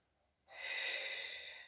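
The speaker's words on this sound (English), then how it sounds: "we're going to breathe in, we're going to roll the shoulder backwards," A long, steady breath drawn in slowly during a lung-capacity exercise that pairs breathing with rolling the shoulders back, heard close and soft and rising gently to a sustained rush of air, with no talking.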